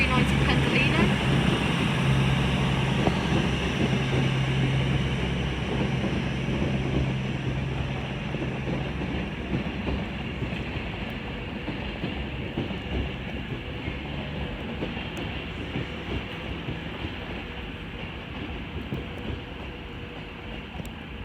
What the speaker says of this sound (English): here is the 13:05 Avanti West Coast service from London Euston to Edinburgh Waverley, being worked by a Class 390 Pendolino